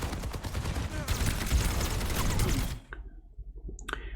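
Rapid automatic gunfire in the Overwatch video game, a dense rattling burst of shots that runs a few seconds and then cuts off abruptly, followed by a few faint clicks and mechanical sounds.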